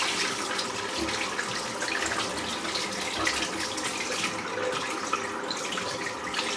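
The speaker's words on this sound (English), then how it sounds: "Just rinsing the brush out." Tap water runs steadily into a sink while a shaving brush is rinsed under it, a close, continuous splashing gush with slight variations as the brush moves through the stream, with no talk.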